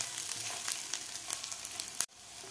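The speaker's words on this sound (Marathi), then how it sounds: "कांद्याबरोबर आपल्याला लसूण आणि आलं व्यवस्थित भाजून घ्यायचं आहे" Garlic and ginger frying with onions in a pan, a soft continuous sizzle with small crackles and stirring scrapes, ending in a sharp clunk before the sizzle continues faintly.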